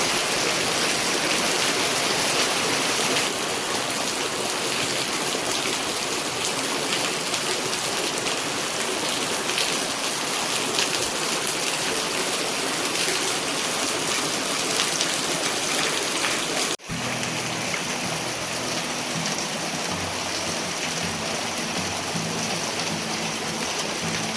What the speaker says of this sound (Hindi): चारों तरफ भारी बारिश हो रही है